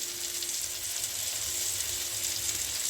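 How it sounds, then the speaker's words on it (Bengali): Chicken pieces fry with ground peanut paste in a pan over low to medium heat, giving a steady, close, even sizzle with faint stirring and no talk. "মোটামুটি আমার সমস্ত মাংস ভাজা হয়ে এসছে"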